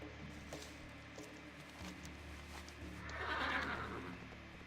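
A horse neighs in the World of Warcraft fantasy game, a faint whinny rising briefly near the end over quiet game ambience with soft hoof sounds.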